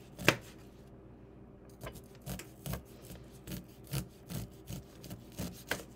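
A kitchen knife slices raw kernels down a fresh, uncooked ear of corn, a series of short, crisp scraping cuts at an unhurried, irregular pace, close and fairly quiet, after one louder cut near the start.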